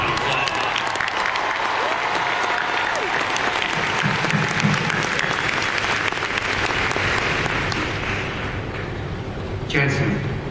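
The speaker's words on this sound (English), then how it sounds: "they deserve a big round of applause" A large Comic Con crowd applauds the Supernatural writing staff in a big hall, with dense, sustained clapping mixed with cheers and whoops that stays loud for about ten seconds, then a sharp burst near the end.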